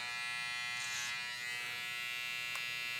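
A Wahl trimmer with a clipper motor buzzes steadily and close up during a burst fade haircut, a continuous electric whine with a brief tonal blip near the end and no talking.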